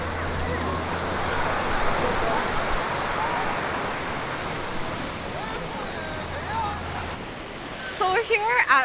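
Ocean surf at Waikiki Beach, a continuous broad wash of breaking waves with wind buffeting the microphone, loud and steady throughout, with faint distant voices near the end.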